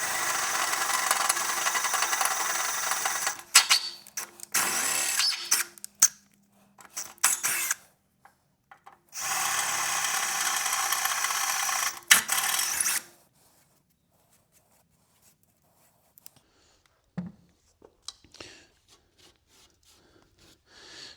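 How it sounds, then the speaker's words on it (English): A power drill driving a larger bit through metal on a Ford E-Series during oil cooler relocation work, heard in two long loud bursts of steady whirring with short pauses and scraping between, then quieter handling sounds. "So we have our holes drilled now,"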